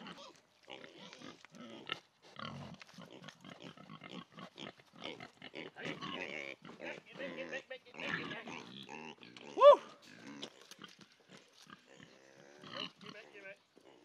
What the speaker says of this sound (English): Have some leftovers for these pigs.